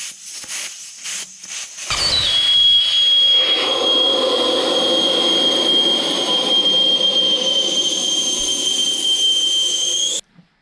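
Air rushes out of a Hayabusa 1300 motorcycle tire through the valve stem with its core removed, a loud, steady hiss that starts abruptly after a few soft taps and runs for about eight seconds before cutting off.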